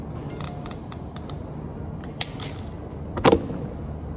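Scissors snipping through the wire ends of a Cat6 network cable, several short crisp cuts close by, with a louder final snip near the end over a low room hum.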